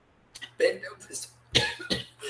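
Someone with a sinus flare-up coughs a few times during an online class, short rough bursts broken by pauses and followed by quiet breaths.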